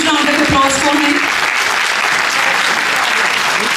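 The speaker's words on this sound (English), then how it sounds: "huge round of applause for him" Audience at a women's health conference inaugural ceremony applauding, a dense continuous clapping that stays loud throughout, with a voice briefly audible at the start.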